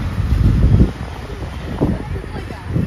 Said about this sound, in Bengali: দারুণ হাওয়া।